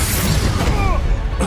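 A Bombarda spell blast in the video game Hogwarts Legacy, a loud booming burst with crashing debris and rumble, mixed with game effects throughout the short clip.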